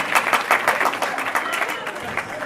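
Scattered applause from a small group, uneven claps that thin out toward the end, with a faint voice underneath.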